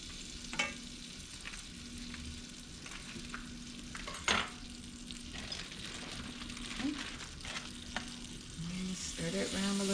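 Garlic and onion sizzling in butter in a pan while being stirred, a soft continuous fry with occasional utensil scrapes and knocks against the pan, close and fairly quiet, faint voice murmurs.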